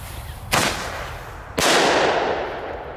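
Thunderking firecrackers set off outdoors: two sharp, loud bangs about a second apart, each followed by a crackling, hissing tail, with the second blast louder and longer-lasting.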